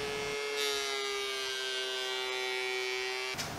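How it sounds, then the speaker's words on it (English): A thickness planer takes wood boards down to their final thickness, making a loud, steady buzzing drone that holds for about three seconds before cutting off near the end. There is no talk over it. "Then I'll plane the boards down to their final thickness."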